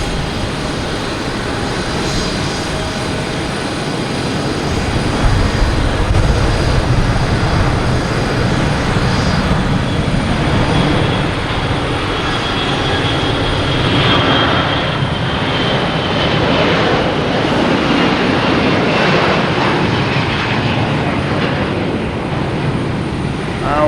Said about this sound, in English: We'll stick with this takeoff though, with the Lufthansa A340.